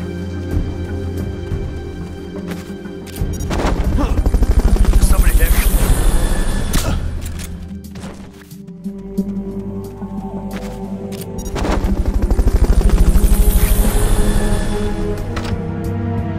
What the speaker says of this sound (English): Fulton recovery helicopter is...